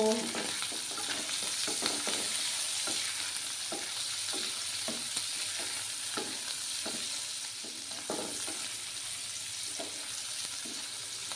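Dried Bombay duck (lote shutki) with potato and brinjal fries in a pan with a little salt, giving a steady hissing sizzle under soft, regular spatula taps and stirs, close and continuous without speech.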